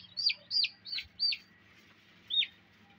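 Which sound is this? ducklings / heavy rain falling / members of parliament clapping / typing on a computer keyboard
ducklings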